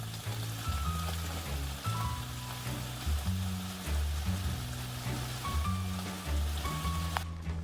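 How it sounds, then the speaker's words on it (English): Steady rain hisses across the whole stretch, loud and continuous, blended with sustained musical tones that shift pitch underneath. "Sounds like rain."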